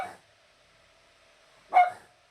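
A small dog yaps twice indoors, one short bark at the start and another about two seconds later, with near silence in between.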